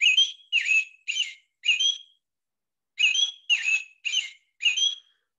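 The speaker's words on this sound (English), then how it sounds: "And that's the song of the robin." An American robin in Connecticut sings clear, whistled phrases, four short caroling notes, a pause, then four more, crisp and alone against silence.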